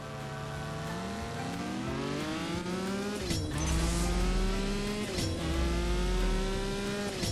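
A race car engine in the mobile racing game CSR2 Racing winds up through its gears, loud and steady, with rising pitch sweeps and quick drops at each shift, roughly three or four gear changes in a row with no talking.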